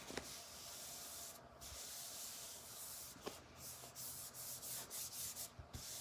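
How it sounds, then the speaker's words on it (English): Folded paper rubbed flat by hand during a butterfly craft, giving a soft continuous brushing hiss, close and quiet, with a few light taps and paper crinkles toward the end. "I'm gonna fold it shut, and I'm gonna rub, okay? Rub it, smooth it out."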